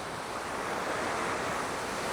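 Ocean waves rolling in at Da Nang beach in Vietnam, a steady broad wash of surf close by with wind buffeting the microphone, no voices.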